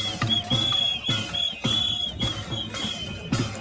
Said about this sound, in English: we're starting off with whistle